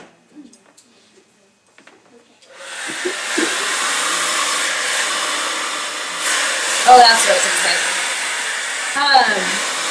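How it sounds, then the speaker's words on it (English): A brief spoken remark, then a hair blow dryer switches on and runs with a loud steady whoosh, its airflow shifting as it moves. "Don't be afraid to get close to the brush with the blow dryer"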